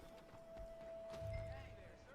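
Game audio of a horse neighing and hooves clip-clopping, with a steady tone and a voice speaking French over it.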